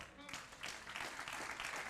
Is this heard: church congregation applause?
yes